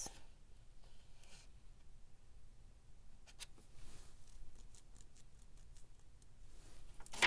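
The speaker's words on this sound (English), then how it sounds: "I am just going to cut into this signature." Scissors snip into a paper signature for a vintage retro junk journal, a series of soft, quiet crisp cuts and rustles scattered through a faint, low-level room.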